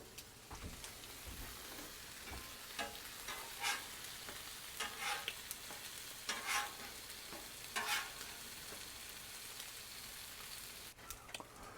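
Eggs and ham fry on a Blackstone griddle with a soft, steady sizzle, broken by repeated scraping and stirring strokes of a spatula at close range.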